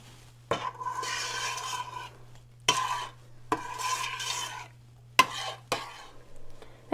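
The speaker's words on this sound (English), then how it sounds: "Make sure you stir often" A spoon stirs a sugar mixture in a pot for no-bake cookies, repeated gritty scraping strokes in bursts separated by sharp knocks against the pan, close and fairly quiet over a low steady hum.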